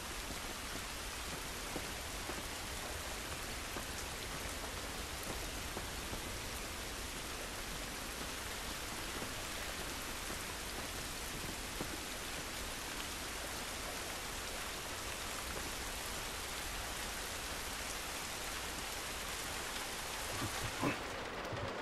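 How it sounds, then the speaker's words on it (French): Steady, dense rain pours down in The Last of Us, a continuous hiss of drops on surfaces lasting throughout at an even, fairly loud level with no voices. "Cette pluie ne va pas nous aider."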